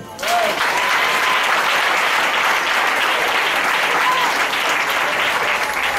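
A church congregation applauding to acclaim the Lord during a Sunday service, with sustained, dense clapping from a large crowd that starts abruptly and holds steady throughout.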